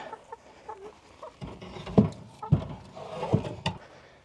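Chickens cluck softly in short scattered bursts, fairly close by, with low background noise and no talking.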